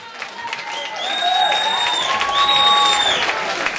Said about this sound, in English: a big round of applause for both these young warriors